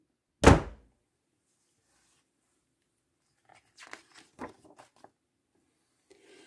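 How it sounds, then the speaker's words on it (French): A single heavy door slams shut with a loud thud, followed by quiet shuffling and a few soft knocks. "Et il claque la porte de l'usine."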